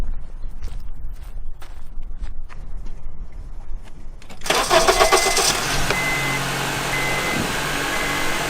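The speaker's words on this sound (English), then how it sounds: "start the car" After a few quiet clicks, a car engine cranks with a portable jump starter attached and catches at once, then settles into a steady loud idle nearby.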